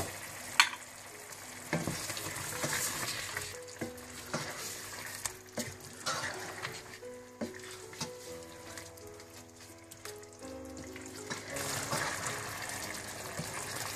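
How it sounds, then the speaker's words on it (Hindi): Whole spices (black pepper, cinnamon, green and black cardamom, bay leaf, star anise, cloves, cumin) and chicken fry in a pot for degi chicken biryani, giving a steady close sizzle with stirring scrapes and faint tonal music behind. "सब कुछ मिलाकर आप इसको अच्छी तरह से भून लें"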